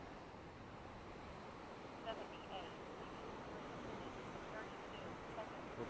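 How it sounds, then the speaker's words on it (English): Strong wind gusting by the ocean with broadband rumble and surf-like wash, steady and loud throughout, with a voice faintly present. "It's windy as hell, you guys."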